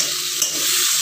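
Tomato and chili fry in a pan for a jackfruit curry, a loud continuous close sizzle with a faint scrape of stirring partway through.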